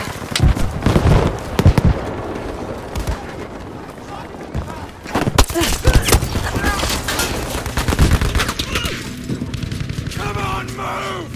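Battlefield 5 multiplayer combat: a loud grenade blast followed by dense, continuous bursts of gunfire and further explosions, with voices shouting in German over the fighting.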